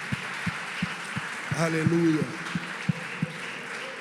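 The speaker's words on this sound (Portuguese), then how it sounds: "Você pode aplaudir o Senhor?" A church congregation claps in an even, steady rhythm of single claps. Briefly in the middle, a voice calls out over the clapping.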